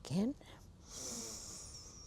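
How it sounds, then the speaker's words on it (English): A single audible inhale during a yoga class precedes a brief voiced tone, followed by soft airy breathing noise. "So deep breath in to begin."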